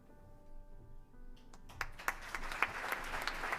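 An awards-event audience begins applauding after a quiet moment, the clapping building from scattered claps into steady applause that swells in loudness, with faint murmuring underneath.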